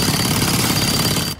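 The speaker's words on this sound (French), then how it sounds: "Il n'y a rien qui résiste à un marteau-piqueur." Loud, dense pounding of a jackhammer on asphalt or concrete at a construction site, heard up close and sustained throughout before stopping abruptly at the very end.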